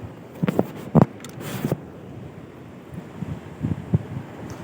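Strong coastal wind at Jaigad gusts, buffeting and rumbling in bursts against the microphone, irregular and blustery over a quiet outdoor background during fishing.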